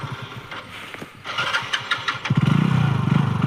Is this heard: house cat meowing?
no